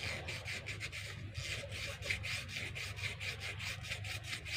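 Fine 1000-grit sandpaper rubs steadily over a mini chainsaw part during a top overhaul, a close, continuous rasping with quick regular back-and-forth strokes and no talking.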